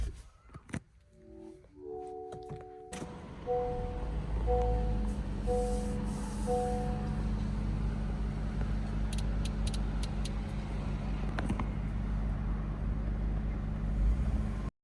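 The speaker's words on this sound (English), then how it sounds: "Let's start the car." A 2025 Honda CR-V Hybrid Sport L starts up: a few chime tones sound, then a steady, fairly loud low hum of the system settles into an even idle with small clicks, and no one speaks.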